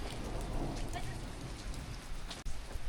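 Rain falling in the Boh Valley, a mountain valley in Kangra, Himachal, a steady close patter of drops on surfaces with a brief dip near the end, no voices over it.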